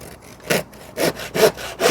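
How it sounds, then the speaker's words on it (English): Hand saw cutting through a wooden joist, four rhythmic strokes with a rasping push and pull, close and loud with short pauses between them. "I'll do a hand saw because there's no metal work in there."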